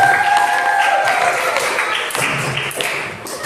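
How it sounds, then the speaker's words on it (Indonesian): Classroom applause from students during a lesson, a dense burst of clapping that fills the clip at close range and thins slightly toward the end, with no voices over it. "tepuk tangan untuk kita semua"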